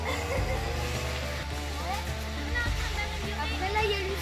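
Water rushes steadily through a small hand-dug stream channel on a beach, a continuous splashing flow heard close up with low rumbling underneath and no break throughout.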